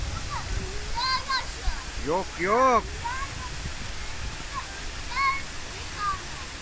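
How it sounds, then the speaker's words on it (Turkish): Manavgat waterfall roars as a steady, broad rushing wash beneath nearby voices that talk and exclaim over it. "Şelalenin sesinden duyamaz oldular beni."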